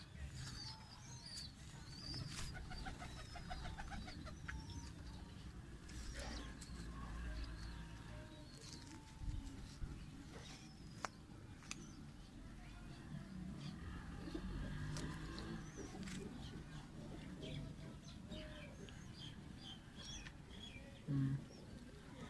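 Soft cooing and fluttering of Chuha breed pigeons nearby, mixed with scattered chirps, while someone talks throughout.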